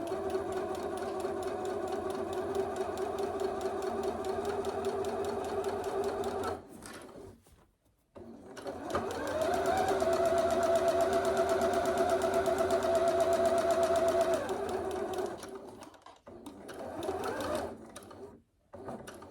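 Stitching a dress bodice seam, a sewing machine hums in long steady runs, pausing briefly, then surging again and stopping in short bursts toward the end, close and clear.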